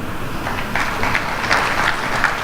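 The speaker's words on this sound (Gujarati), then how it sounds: "તાળી પાડો છો મને ગમે છે" Audience clapping at a Patidar community gathering, a short burst of scattered applause that builds slightly and stays moderately loud for a couple of seconds.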